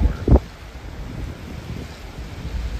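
Low rumbling wind of about 24 mph with gusts up to 38 mph buffets the microphone, with one sharp gust thump early on and steady blustery noise after, in Rockport, Texas.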